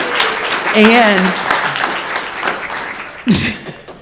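Congregation applause at a Sunday church service after news of a cancer survivor: a soft, sustained patter of clapping under a brief voice, with one sharper burst of sound near the end.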